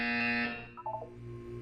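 A buzzer goes off during a Portal 2 game session, a loud harsh electronic tone lasting about half a second before cutting off into quieter rumbling and a few faint tones.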